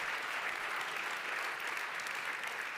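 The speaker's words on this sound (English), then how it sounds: "Applause again for you guys." Steady applause from an audience at an award ceremony and evening reception, a dense wash of clapping that holds at an even level for the whole stretch with no voices over it.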